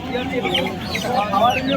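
Chickens cluck steadily at a poultry market selling ducks and hens, a dense overlapping chorus of nearby birds over busy market murmur.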